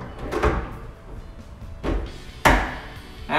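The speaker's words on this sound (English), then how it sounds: "you will hear a distinctive click sound" A few sharp clicks and knocks of a cabinet door hinge snapping into place, with faint handling noise between them.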